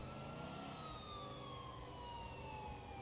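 An ambulance siren in the video game GTA 4 wails steadily at close range, its tone slowly sweeping in pitch over a low rumble of traffic, with no talking.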